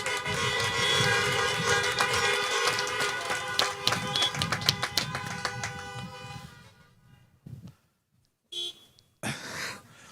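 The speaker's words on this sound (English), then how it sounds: "Flash your lights, honk your horns." Many car horns honk together at a graduation ceremony in a sustained, overlapping blare, then thin out into a few scattered short toots with gaps of silence.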